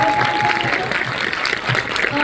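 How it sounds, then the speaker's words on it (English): A theater audience breaks into a round of applause for cast members after a performance, dense and steady clapping filling the room for a couple of seconds with a faint crowd murmur underneath. "Let's have another round of applause."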